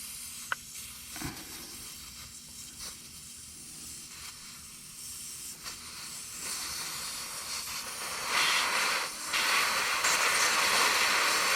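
Air hisses from a UTV tire valve stem, a steady breathy rush that swells louder and brighter toward the end, heard close with no talking.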